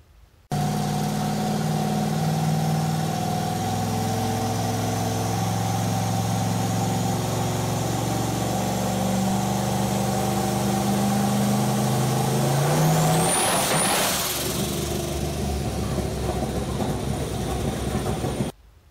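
Turbocharged car accelerating hard from a pedal press to boost cut, a loud steady engine roar with rising tone lasting many seconds, a whistling sweep near the end, then stopping abruptly.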